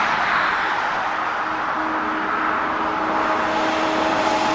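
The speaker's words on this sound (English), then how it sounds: "sorry about the traffic" Road traffic passes by near the site of the Three Mile Island nuclear plant in Pennsylvania, a steady broad outdoor roar of vehicles with a faint engine drone, continuous and fairly loud with no talk.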